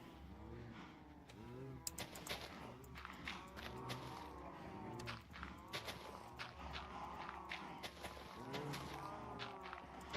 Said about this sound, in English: Don't worry, cows.